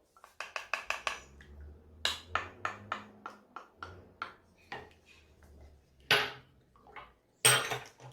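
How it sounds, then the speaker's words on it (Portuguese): Condensed milk and egg are mixed into bread dough ingredients in a bowl, with a quick run of sharp clinks from a utensil against the side followed by irregular knocks and scrapes, close and fairly clear. "Agora vamos misturar bem esses ingredientes"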